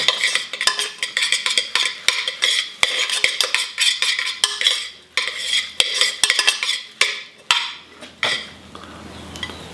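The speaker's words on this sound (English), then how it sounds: "I'm gonna go ahead and give this a good mix." Cilantro lime oatmeal stirred in a pot, a rapid series of close scraping and clinking spoon strokes against the metal, loud and rhythmic, pausing briefly near the end.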